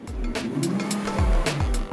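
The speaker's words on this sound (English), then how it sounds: "People descended upon them every time the V8 and the V6 respectively were revved." V8 and V6 performance car engines revved at an auto show, loud close bursts of engine roar with rising and falling pitch, several revs in quick succession over crowd ambience.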